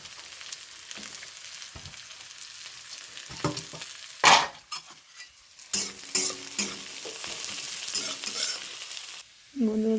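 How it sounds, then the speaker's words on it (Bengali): Onion and carrot frying in white cooking oil, a steady sizzle running throughout with scraping stir strokes, a sharp clatter near the middle and louder bursts of stirring toward the end; no talking. "বন্ধুরা দেখুন পেঁয়াজ আর গাজর ভাজা হচ্ছে"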